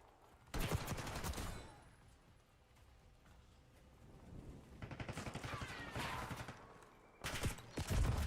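Bursts of automatic gunfire from a Call of Duty hardpoint match, with a loud volley at the start, a rattling string of rapid shots in the middle and another sharp burst at the end, separated by quieter stretches.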